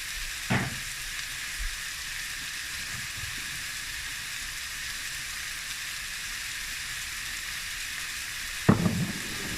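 Steady loud sizzling of chicken stir-frying over high heat in a hot pan, with a couple of scraping stirs near the start and end.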